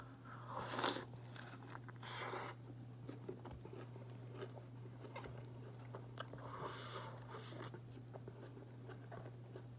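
Quiet, close-up bites and crunchy chewing on a fried chicken burger, with a couple of louder crisp bites early on and soft mouth sounds over a steady low hum.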